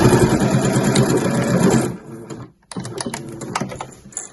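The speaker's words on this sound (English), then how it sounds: "then I'll sew that pocket closed at the top" Sewing machine stitching a zip pocket closed on a weekender bag, running in a steady dense whir for about two seconds, then stopping and giving way to softer handling clicks and rustles nearby.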